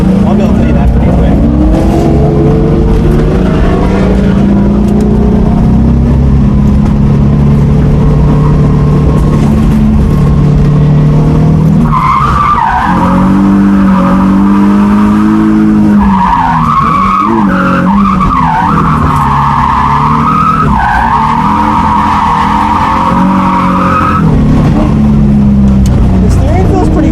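A drift car's engine revs hard and its tires skid for a long, loud, continuous stretch, the engine pitch climbing and dropping with bursts of screeching, while a voice can be heard under the noise.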